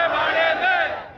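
A BJP rally crowd in Sujangarh, Rajasthan chants political slogans, a loud, brief burst of many voices shouting in unison.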